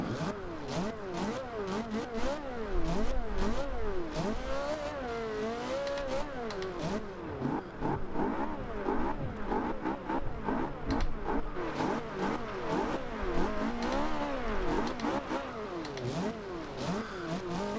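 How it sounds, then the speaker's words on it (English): A 2009 Ferrari 458 Italia in Forza Horizon 2 revs high, climbing and falling in repeated sweeping pitches, loud and continuous, its exhaust blipped over and over. "let's hear what the rev for the exhaust sounds like"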